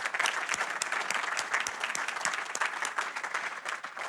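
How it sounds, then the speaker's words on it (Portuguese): Steady applause from an audience at a book launch event in Porto, dense and continuous hand clapping throughout with no talking over it. "Uma salva de palmas."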